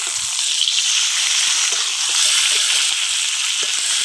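Katla fish heads rubbed with salt and turmeric sizzle steadily in hot oil with onion and garlic, a close, even crackle that stays level throughout.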